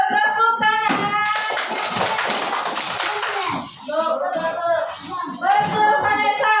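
A class of schoolchildren in a maths lesson breaks into a loud run of group clapping for a pupil's correct answer, dense rhythmic claps surrounded by a teacher talking and children's voices.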